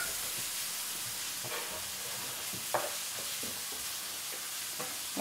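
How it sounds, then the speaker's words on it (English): Minced garlic, two cloves, sizzling in a skillet for Spanish fried rice, a faint steady frying hiss with a few soft stirring scrapes and no voices. "So I'm going to add the 2 cloves of garlic here,"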